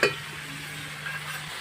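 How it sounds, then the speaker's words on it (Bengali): Chicken meat frying in oil in a pan, a steady close sizzle with a soft initial clatter, continuing evenly without talk. "মাংস কিন্তু আমি বেশি ভাজবো না, হালকা পরিমাণে ভেজে নেব।"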